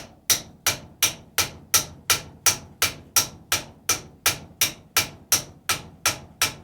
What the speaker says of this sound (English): And I'm just tapping on it. I'm not hitting it super hard.